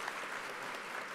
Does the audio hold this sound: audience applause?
yes